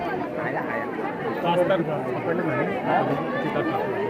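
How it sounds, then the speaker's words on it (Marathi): A large crowd at the Ekvira temple during Navratri fills the air with dense, overlapping chatter close around, voices rising and falling in a constant hubbub. "या या तुफान गर्दी आहे फुल गर्दी आहे"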